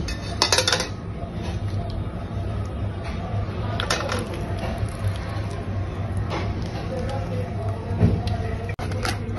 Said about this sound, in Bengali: কাঁঠালগুলো আমি পেস্ট বানিয়ে নিয়েছি, এখন আমি একটা ছাঁকনির সাহায্যে ছেঁকে নেব।